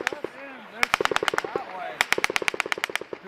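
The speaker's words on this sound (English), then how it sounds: "Somebody shooting that way." Close automatic gunfire from a Marine firefight while clearing an insurgent stronghold: rapid bursts of loud cracking shots in two clusters, with a few voices heard faintly between them.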